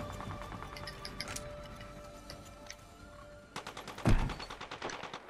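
Gunfire in a video game: scattered clicky shots, then a burst of rapid automatic fire with one heavier boom near the end, fairly quiet overall.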